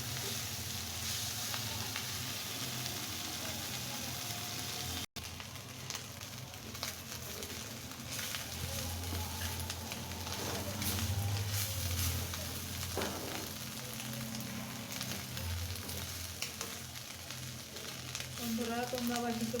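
Onion and fish fry together in a wok, giving a steady, close sizzle that lasts throughout, with occasional clinks and stirring noises and a faint voice in the background.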